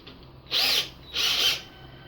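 A cordless drill whirs in two short bursts with a brief pause between them, close and fairly loud over a quiet background.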